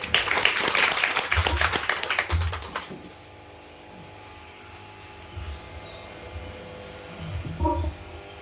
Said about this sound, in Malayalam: എല്ലാവർക്കും ഇത്ര നന്നായിട്ട് സംസാരിച്ച നിവേദിതയ്ക്ക് നല്ലൊരു കയ്യടി നമുക്ക് കൊടുക്കാം.